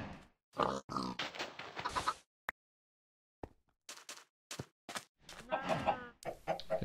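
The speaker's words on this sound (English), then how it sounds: "I got the chickens going." Chickens and pigs in a farming video game, a burst of clucks followed by scattered grunts and oinks, loud and close with silent gaps between calls.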